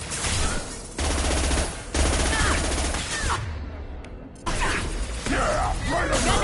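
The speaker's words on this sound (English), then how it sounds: "Firing a high impact shot." Mass Effect combat erupts in heavy, dense rapid gunfire, with a high-impact shot among booming blasts and mechanical clatter, loud and close, pausing briefly before resuming, with a character's voice and effects layered over the shooting.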